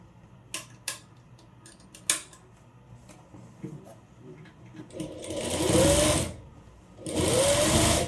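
A sewing machine top-stitches a half-inch folded hem on a one-piece umbrella frock, running in two loud, sustained bursts after a few light clicks and taps from handling the fabric.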